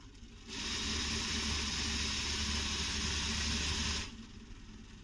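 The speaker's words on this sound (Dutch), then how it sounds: "De motor doet het" An electric motor in a model KLM Koploper train hums and whirs steadily for about three and a half seconds, starting and stopping abruptly, with a broad hissing noise while it runs.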